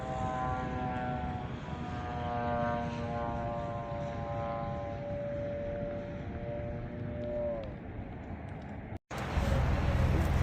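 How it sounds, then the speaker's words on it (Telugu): A propeller racing aircraft passes overhead, its engine drone loud and steady, then sliding down in pitch as it moves away before a sudden cut. "కార్ రేసింగ్లే కాదు, ఫ్లైట్ రేసింగ్లు కూడా ఉంటాయి"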